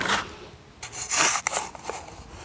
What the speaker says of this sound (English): So now I'm just going to take the excess sand off the sides.